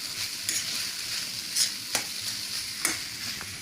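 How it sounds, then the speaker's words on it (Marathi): Flattened poha frying in a kadhai, a steady hiss of sizzling broken by sharp scraping clicks as a spatula stirs it through the hot pan, with no voices present. "पण आता मस्त असे फ्राय करतायत चालत कढईमध्ये."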